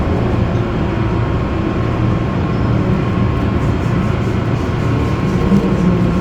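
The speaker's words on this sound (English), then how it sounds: "This is Terminal 1. Please exit the tram." Steady low rumbling hum of an airport tram in motion at Minneapolis-St. Paul International Airport, continuous and fairly loud throughout with no talking.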